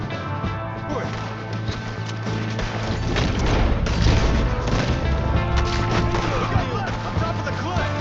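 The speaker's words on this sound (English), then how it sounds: "We got one shooting from the tower." Gunfire from a shooter perched on a tower during a Red Dead Redemption 2 story mission, sharp cracks and thuds scattered across a dense, loud battle mix with steady low rumble and voices talking over it.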